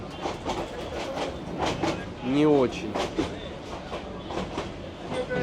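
A crowded train carriage rolls along the tracks in Bangladesh with a steady rumble and rhythmic clickety-clack, a brief wheel squeal partway through, and a short spoken remark.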